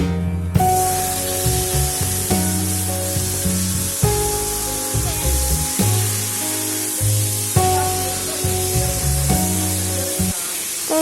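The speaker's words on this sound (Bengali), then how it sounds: "এবার মাহায় রাখা টমেটো আর মাংস দিয়ে দিব।" Loud sizzling and frying as local chicken and tomato go into hot oil with fried onion, bay leaf, black cumin and spices, with repeated stirring and scraping bursts throughout and no talking.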